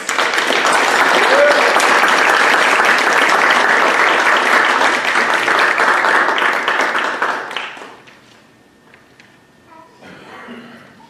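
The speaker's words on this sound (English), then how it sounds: "Please give them a round of applause." A college Phi Theta Kappa induction ceremony audience applauds the inductees with a loud, sustained burst of clapping that dies away after several seconds, followed by a quiet room with scattered faint sounds.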